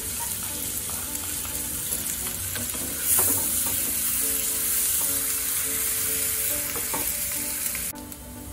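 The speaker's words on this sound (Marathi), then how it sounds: "सगळ्या भाज्या आपल्याला त्या परतून घ्यायच्या, थोड्याशा तेलावर शिजवून घ्यायच्या" Chopped vegetables with onion sauté in a little oil. A steady loud sizzle is broken by occasional stirring scrapes close by, with no talking.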